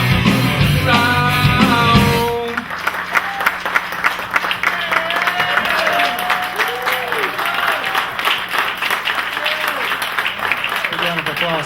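Following a live band's song at a showroom in Spartanburg, the music ends and a modest club crowd claps steadily, scattered handclaps mixing with faint voices and room noise.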